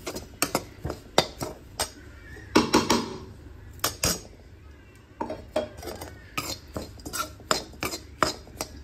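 Ground makhana being dry-roasted in a pan for kheer, with a spoon scraping and clinking against the metal in quick irregular strokes, close and fairly loud, with a brief rattling burst midway.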